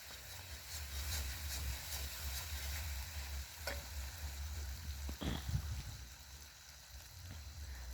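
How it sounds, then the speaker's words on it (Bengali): Onion, garlic and ginger sizzle and hiss steadily as they fry, cooked outdoors in the middle of a field, with a continuous crackling bed, a low rumble and a few clinks of stirring. "এখন পেঁয়াজ রসুন কষা হচ্ছে আদা দিয়ে, রান্নাটা কষা হচ্ছে"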